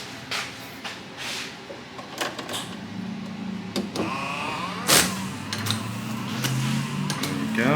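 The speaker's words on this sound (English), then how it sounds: "We have windshield wipers. They work." Windshield wipers running on a 1973 VW Thing: a whirring motor with repeated swishing sweeps and clunks of the linkage, up close, with no talk.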